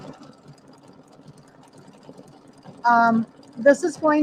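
An embroidery machine stitches a small decorative pattern in red thread on a pieced flag and cherries quilt block, a quiet steady mechanical whir that runs for a few seconds before a voice speaks over it.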